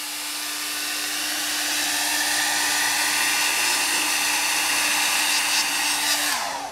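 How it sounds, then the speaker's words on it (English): A hair dryer blowing steadily at close range on tape on a Kawasaki motorcycle wheel, a loud continuous whoosh with a motor whine, running throughout and cutting off at the end. "if you hold the hairdryer right in front of the tape"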